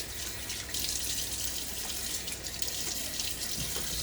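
Water runs from a bathroom tap into a sink in a steady, close splashing stream while a face is wetted before a shave with a Gillette Tech Hybrid safety razor.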